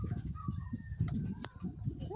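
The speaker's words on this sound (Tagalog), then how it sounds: "Yan mga manok." Chickens at a farm poultry house cluck softly and sporadically, a few short calls at close range over low background noise.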